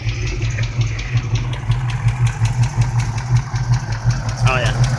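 A 1980 Chevrolet Malibu Classic Wagon fitted with a BBK throttle body idles close by with a loud, lumpy, pulsing low rumble that stays steady throughout, with a short voice near the end.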